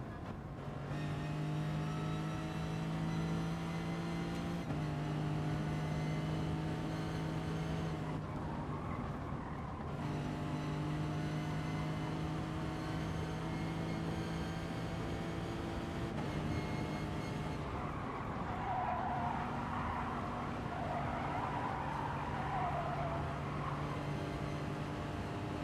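A Lamborghini race car in GT Sport drives steadily, its engine drone holding a strong sustained tone with repeated gear shifts and rising revs, loud and continuous with no talk over it.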